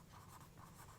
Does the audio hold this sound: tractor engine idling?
no